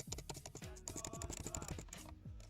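Close, crisp key taps on a Dell G5 SE laptop keyboard, a steady rapid patter of many light clicks with a soft hum beneath, recorded quietly up close.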